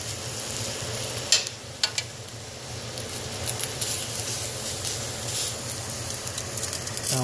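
Teriyaki chicken pieces cooking at the hot center of a grill, a steady crackling sizzle running throughout with a few sharper pops and clicks near the start, close and even in level.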